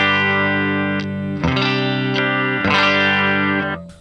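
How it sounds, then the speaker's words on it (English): Electric guitar played through an HX Stomp amp preset on a clean tone, sustained ringing chords with a chorus-like shimmer, struck a few times and let ring, close and alone. "So here's our clean tone."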